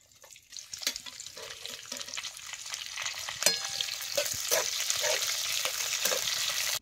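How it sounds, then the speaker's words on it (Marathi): Chopped onion sizzles steadily in hot oil with mustard seeds and cumin, cooked over a wood-fired stove for dum aloo, with a continuous frying hiss and occasional stirring clinks. "आता कांदा तेलात भाजतो"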